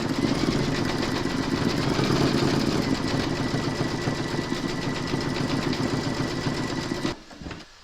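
An embroidery machine stitches the outline of a sunflower petal with a fast, even mechanical chatter that runs for about seven seconds before cutting off.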